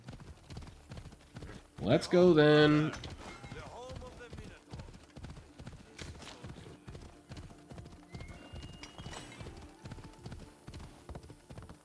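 A Pegasus mount in the Assassin's Creed Odyssey video game snorts, then its hooves clip-clop in a fast, steady rhythm with a loud whinny near the start, while someone talks over the game sound.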